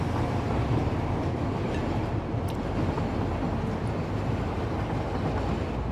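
A train running on old, rough tracks in the factory-building game Satisfactory, with a loud, continuous rumbling roll that stays even throughout and has no talk over it.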